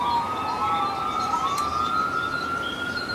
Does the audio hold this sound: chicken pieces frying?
no